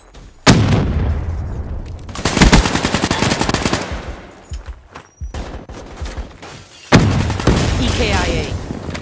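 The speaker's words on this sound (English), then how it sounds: "Incoming frag!" A frag grenade goes off in Call of Duty Black Ops III multiplayer. Sharp, loud blasts burst out amid rapid gunfire and a game voice calling out.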